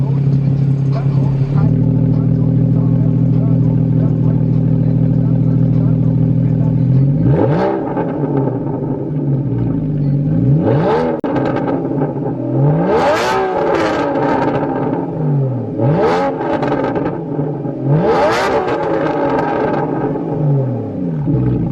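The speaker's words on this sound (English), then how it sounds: "Should I cut into some revs?" A straight-piped Porsche Cayman 981 in sport mode idles with a deep, loud drone, then is revved in a series of about five sharp blips that rise and fall, close to the exhaust.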